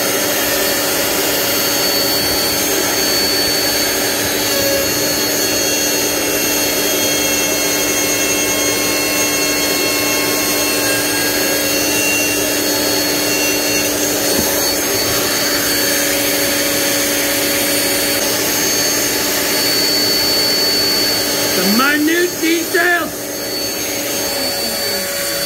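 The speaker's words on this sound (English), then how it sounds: "I use a Kirby vacuum, and that's what's hooked up to my router." A loud Kirby vacuum motor, hooked up to a wood router, roars steadily with a high whine, joined by the router's grinding as it carves wood, and a brief rising pitch sweep near the end.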